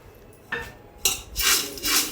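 Corn chivda, a spiced Maharashtrian snack mix, being tossed in a cooking pot with its lid, giving a few irregular metallic clatters and a dry rustling swish of flakes, close by and fairly loud, with no talking.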